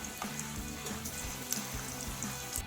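Sliced raw plantain drops into hot oil in a kadai for chips and fries with a steady bubbling sizzle, broken by small splashes and pops.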